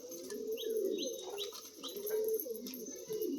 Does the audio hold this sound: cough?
no